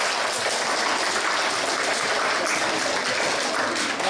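Steady applause from an audience fills the whole stretch, a dense, even wash of clapping with no pauses.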